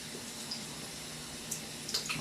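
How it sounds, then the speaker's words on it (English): Running tap water splashes as someone rinses a Rockwell 6c razor, a steady close hiss with a few small splashes toward the end. "So I'm going to rinse"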